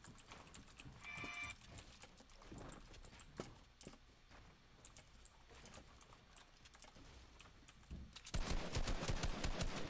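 Rapid gunfire bursts in a video game, with sharp repeated shots throughout and a louder, denser volley near the end.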